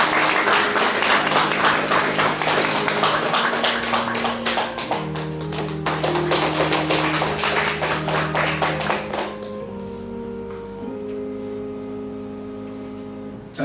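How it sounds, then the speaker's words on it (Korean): A church congregation at a Sunday service applauds loudly with steady, dense clapping for about nine seconds, which then fades out as soft sustained tones take over. "우리 모두가 전도의 일꾼 되겠다는 다짐으로 힘차게 박수 드립니다"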